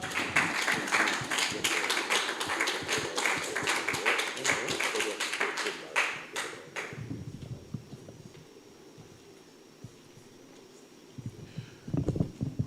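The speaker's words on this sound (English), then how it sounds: "We can't stop the applause yet, and I know we are applauding where we are." Audience applause following a university lecture, dense clapping for about seven seconds before fading, then a voice speaking over quieter room sound with a brief burst of claps near the end.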